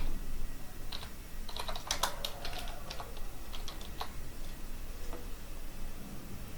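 Someone types a family type name in Revit on a computer keyboard, producing quiet, irregular clusters of close key clicks over faint background hiss.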